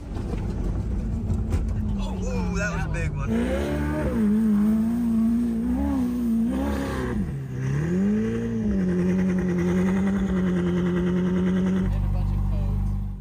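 Ferrari supercar race car engine running loud and close, a steady throaty drone that swells and dips as the revs rise and fall over about thirteen seconds, with no speech over it.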